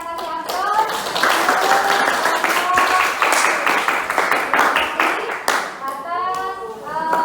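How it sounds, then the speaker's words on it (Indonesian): Applause from a classroom group, a burst of clapping hands that builds and continues for several seconds, with voices talking over and around it. "Oke, bagus sekali, kita kasih aplaus."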